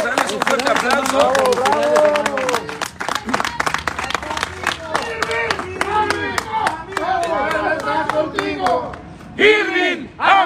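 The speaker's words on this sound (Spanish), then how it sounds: "Vamos a darles un fuerte aplauso." Rally crowd in Pachuca, Mexico, clapping and cheering loudly with shouted voices and chant-like calls, dense and continuous throughout with bursts of rhythmic clapping.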